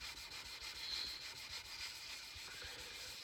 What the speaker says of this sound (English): Right now I'm using 400 grit sandpaper, just a wet dry.